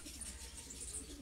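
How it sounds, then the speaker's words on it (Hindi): Racing pigeons belonging to a fancier in Sheikhupura coo softly in the background, a faint, low murmuring call over a steady ambient hum. "ये अहमद भाई के कबूतर हैं जो बाजी में उड़े हैं।"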